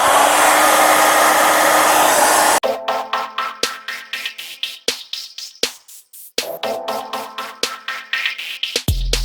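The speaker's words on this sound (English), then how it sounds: "let me break out the hair dryer and let's do it." A hair dryer blows with a steady loud whoosh onto sneaker sole shields, then cuts to a series of sharp clicks and thumps with brief rustling between them.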